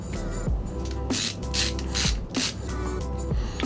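Screws being driven into an airsoft gearbox on an M240/M249, with repeated scraping, ratcheting bursts of the driver in a close, steady rhythm over several seconds, no talking.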